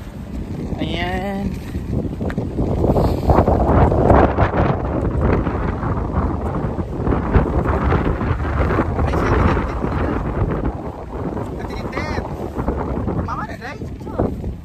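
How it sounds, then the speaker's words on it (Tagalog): Strong wind roars and buffets against the microphone outdoors on rural farmland, loud and continuous, with people talking under the gusts. "Ayan, hangin kaayo diri guys."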